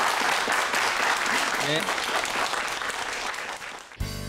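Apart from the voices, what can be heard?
audience applause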